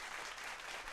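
A short burst of canned applause from a sound effect on a call-in show, continuous dense clapping of many hands at a steady, moderate level.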